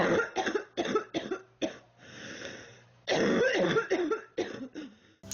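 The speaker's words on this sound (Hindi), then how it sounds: "उनकी बेटी जोर जोर से खांस रही है" Repeated loud, harsh coughing in several bursts, with short gaps and a longer pause midway, close to the listener.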